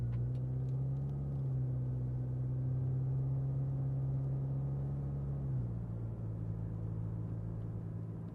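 Cabin view of a white 2011 Audi A4 widebody pulling away under throttle: a low, smooth engine drone holds steady and quiet inside, then shifts to a slightly lower pitch near the end, with no talk.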